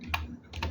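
A few quick keystrokes on a computer keyboard, close and soft, with short clicks in a brief burst.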